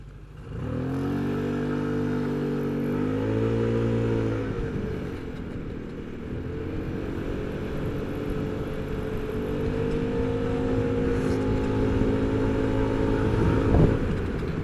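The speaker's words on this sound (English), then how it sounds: "So acceleration in the mid-range, I'm doing 25 miles an hour, and then we're going to open it up full throttle." A Royal Alloy GT125 scooter fitted with Dr. Pulley sliders accelerates from about 25 mph at full throttle uphill, its engine droning steadily and climbing in pitch, with wind and road noise close by.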